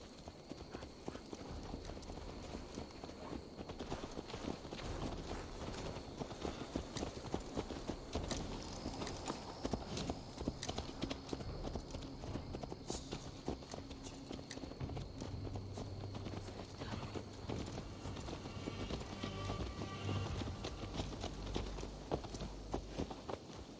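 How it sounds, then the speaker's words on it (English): Horse hooves clip-clop steadily in Assassin's Creed Valhalla, a dense, even walking rhythm of hoof strikes lasting throughout, close and fairly loud over a low rumbling backdrop. "Let's return the horse."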